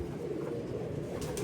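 Hino breed pigeon cooing, a soft low continuous burble heard close and alone, with faint rustling near the end.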